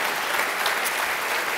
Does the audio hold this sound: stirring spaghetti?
no